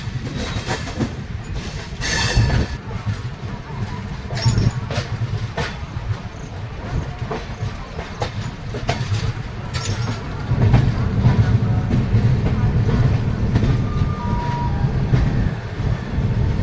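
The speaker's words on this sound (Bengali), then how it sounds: "ট্রেন ধীরে ধীরে মানিকপুর জংশন এন্টার করছে।" A train slowly rolls into Manikpur Junction, with a low rumble, rhythmic wheel clatter and hissing that grow louder toward the end, heard from on board without talk.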